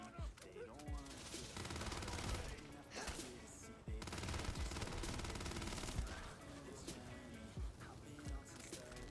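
Sustained gunfire from the video game Starfield, dense rapid bursts running throughout at a steady loud level, with game music and occasional talk layered underneath.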